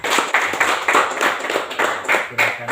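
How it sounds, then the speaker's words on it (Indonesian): Students in a classroom clap their hands together in a steady round of applause, close and fairly loud, with a few voices mixed in underneath. "Ayo tepuk tangan untuk mereka tiga."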